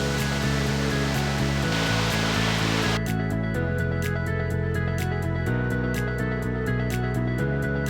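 Constant roaring rush of a waterfall heard while standing right beside it, a loud, unbroken wash of water throughout, with faint musical tones layered over it.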